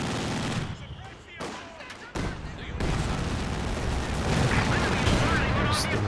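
Rocket launcher and anti-tank fire in a Company of Heroes 2 battle, heavy bursts of gunfire and booms layered over continuous battlefield din, with a few short pauses before the noise swells again.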